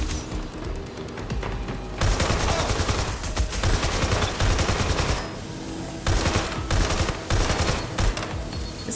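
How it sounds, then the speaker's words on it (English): An AK rifle fired in Watch Dogs: Legion, sounding as loud sustained automatic bursts that run several seconds each, separated by brief pauses, with heavy low-end punch throughout. "This AK has, like, really bad recoil, man"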